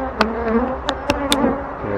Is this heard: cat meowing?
no